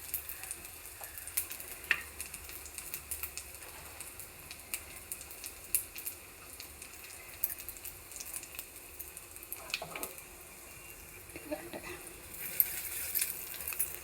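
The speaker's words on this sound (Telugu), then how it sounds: "ఇదిగోండి తాలింపు పెట్టేసుకుందామండి." Spice tempering crackles and fizzes in hot oil for chickpea rasam, a faint steady sizzle with scattered small pops and stirring, heard close but quiet throughout.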